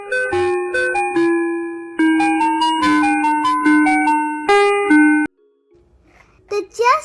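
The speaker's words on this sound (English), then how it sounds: "the Just Chillin' Ice Cream Truck came driving on by" The jingling melody of an ice cream truck plays in bright, bell-like phrases, loud and close, then cuts off into near silence before a few brief notes and sounds return.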